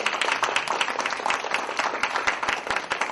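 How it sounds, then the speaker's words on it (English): Audience at a campus talk on justice and equality applauding a guest lecturer, steady dense clapping from many hands throughout, fairly loud and continuous with no break. "Please give him a round of applause"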